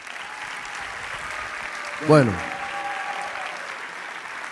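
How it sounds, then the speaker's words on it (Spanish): Steady audience applause fills a Spanish-language church youth gathering, continuing evenly around a brief spoken word from the man on stage. "Denle un aplauso a mi amigo."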